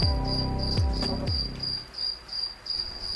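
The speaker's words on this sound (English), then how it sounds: "Hear the crickets?" Crickets chirp in a steady, high, pulsing trill that keeps going throughout, with a few low thumps near the start and no talking.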